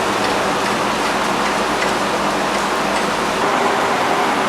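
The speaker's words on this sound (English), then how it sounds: "Yeah, I love rain." Steady rain falls outside a flat on a summer night, a dense, even hiss of drops pattering on surfaces, close and unbroken throughout.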